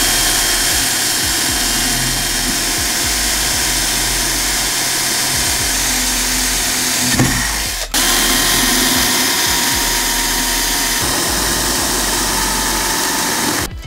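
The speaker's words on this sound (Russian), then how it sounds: "я возьму просто и просверлю отверстие" A power drill bores a hole through a forged carbon fibre helmet mould, giving a loud, steady whirring drone that runs nearly the whole time with one brief break about halfway through.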